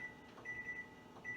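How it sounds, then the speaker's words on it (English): Short electronic beeps sound at a faint, quiet distance as a microwave oven's keypad is pressed to set one minute, a few tones spaced unevenly. "set my microwave for 1 minute."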